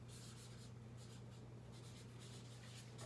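Handwriting during a fraction division lesson, a steady close scratching of a pen or marker in short strokes over a constant low electrical hum, no voice.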